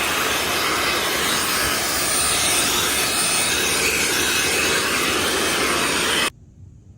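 A cordless car vacuum cleaner runs steadily at full power, a loud constant whooshing whine that cuts off abruptly near the end.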